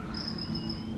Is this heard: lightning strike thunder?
no